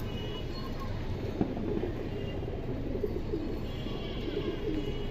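Large pigeons kept in a cage give soft, low coos over a steady rumbling background din.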